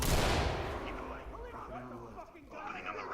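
A flashbang grenade bursts in a video game: one sharp, loud blast at the start that fades into a lingering rumble, while voices talk over the tail.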